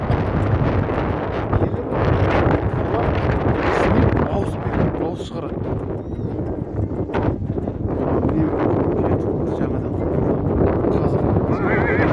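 A herd of horses being moved on an open steppe route near Nur-Sultan, with repeated neighs and whinnies over clip-clopping hooves, heavy wind buffeting the microphone and people talking in the background.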